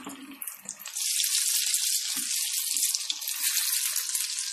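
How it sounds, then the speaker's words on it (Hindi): Moong dal vadas sizzle in hot oil over a medium gas flame, a bright steady hiss that starts after a few soft taps and continues close by. "गैस के फ्लेम को मीडियम रखते हुए फ्राई करेंगे इसे हम।"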